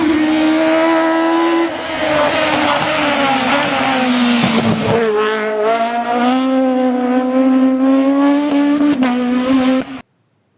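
A Citroën Xsara rally car engine screams at high revs, holding a steady note, dipping briefly mid-run before climbing again, then cutting off abruptly near the end; loud and close with no talk.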